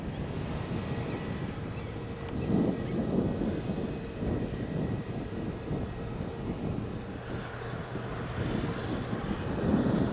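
EasyJet Airbus A320 from Liverpool passing over a beach near Faro Airport, a fairly distant, even jet rumble with a soft broadband roar and some wind noise, no voices.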